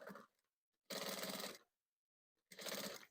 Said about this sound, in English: So I'm just machining straight over